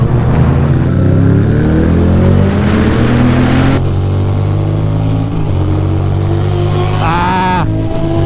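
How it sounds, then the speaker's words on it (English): Loud motorcycle engine revving and idling close by on a ride from Brooklyn to Times Square, a deep sustained rumble with rising pitch as the throttle opens. "I gotta turn it up because my bike is loud"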